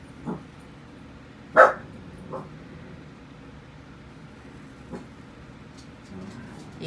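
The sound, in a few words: dogs barking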